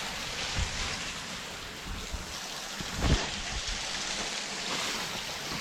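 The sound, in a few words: waterfall falling through an ice cave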